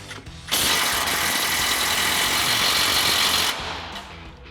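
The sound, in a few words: removing strut nut with 18mm socket on F-150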